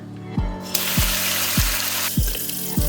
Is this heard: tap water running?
yes